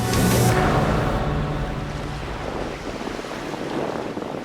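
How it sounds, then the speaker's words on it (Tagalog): Sea waves wash and crash around the Gigantes Islands off Carles, Iloilo, with heavy wind rumble and surf noise close by, loud at first and then easing. "Maliban sa hampas ng mga alon,"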